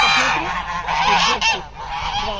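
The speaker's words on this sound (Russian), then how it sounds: "где-то больше 200 гусей. Они на нас ругаются." A large flock of more than two hundred geese honks loudly and close by, with many overlapping calls forming a dense, continuous clamor.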